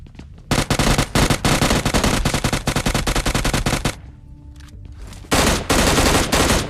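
Rapid automatic gunfire from M16 and UMP45 rifles in a shooter video game, loud sustained bursts of close shots, a short pause with quieter game sounds, then another burst.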